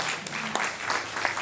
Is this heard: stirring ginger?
no